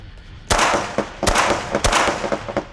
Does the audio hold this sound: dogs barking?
no